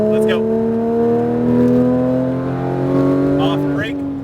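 A Porsche 991 GT3 RS is driven on a track at Speed Vegas, its engine a loud, close, steady droning whine that rises slightly, with brief bits of voice over it.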